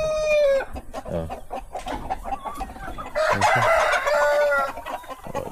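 On a native chicken farm, a rooster crows loudly and close by, twice, with hens clucking steadily in between and around the crows.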